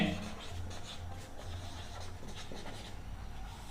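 Chalk or marker scratching across a board while a Class 10 maths problem on the area of a segment is worked, soft rhythmic strokes close by under a faint low hum.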